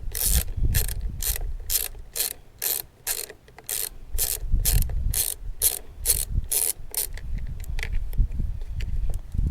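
Rapid ratchet clicking while removing two 10mm nuts on a Troy Bilt riding lawn mower carburetor, a steady close run of sharp clicks in quick bursts that thins out toward the end, with no voices.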